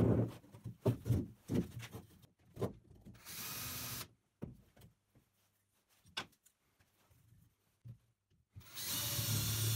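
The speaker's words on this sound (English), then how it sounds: "Drill the hole in the middle of stand legs" A power drill whirs in two sustained bursts, drilling a hole in an aluminium strip, broken up by clattering and handling knocks of tools and metal nearby.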